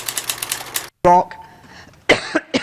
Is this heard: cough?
yes